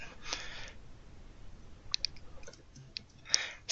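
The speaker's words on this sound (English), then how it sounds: "it looks as though we have two or more people typing." Sparse, quiet clicks of keys being tapped, a few isolated strokes spaced irregularly against a faint background hiss.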